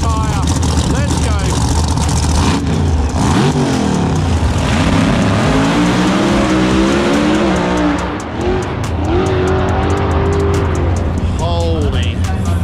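A supercharged red Chevy Nova on big tires makes a drag racing pass at Sydney Dragway, its blown engine roaring and revving loudly with gear changes and tire noise, sustained throughout, with a voice heard alongside.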